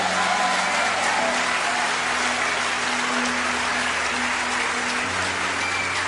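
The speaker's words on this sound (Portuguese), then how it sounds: "Você pode glorificar o Senhor e aplaudi-lo." Congregation applause during a church sermon, a large crowd clapping in a dense, rain-like wash with a faint organ-like tone beneath, steady and full for about six seconds.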